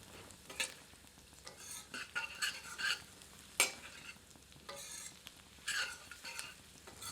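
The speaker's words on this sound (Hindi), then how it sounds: "सबको मिलाकर 1 से 2 मिनट मध्यम आंच पर भूनते हैं।" Bitter gourd masala with coriander, red chilli powder and salt being stirred and roasted in a pan over medium heat: soft sizzling under repeated spoon scrapes and stirs, close and fairly quiet, with no talking.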